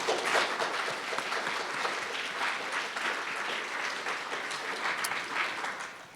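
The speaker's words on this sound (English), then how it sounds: "please join me in a round of applause for the Toronto Biennial" Audience applause at a Toronto Biennial lecture event fills the room steadily for about six seconds, dense clapping from many hands at an even level with no one speaking.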